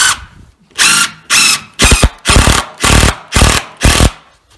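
A power drill drives screws into a timber frame door in about seven loud, close bursts, each a second-long whirring rev separated by short gaps.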